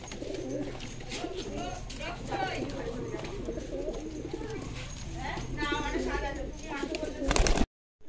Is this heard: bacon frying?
no